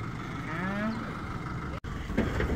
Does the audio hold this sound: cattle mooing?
yes